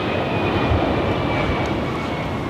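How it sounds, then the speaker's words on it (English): A Delta Boeing 757 lands at LAX, a loud broadband jet roar with a thin steady whine, continuous and close throughout. "Here's another Delta 757."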